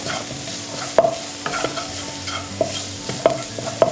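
Finely chopped garlic, onion and green chili with a pinch of salt fry in a pan for chicken puttu biriyani, a soft sizzle broken by repeated sharp spatula scrapes and taps at an uneven pace.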